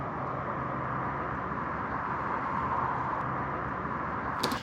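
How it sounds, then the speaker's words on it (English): Distant traffic on the 101 freeway, a steady broad rush of cars passing with soft tire hiss, continuous and far off without distinct individual pass-bys, with a brief sharper noise at the very end. "So what you're hearing is the 101 freeway with cars going by."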